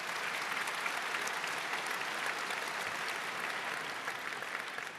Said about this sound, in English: Wow, big applause.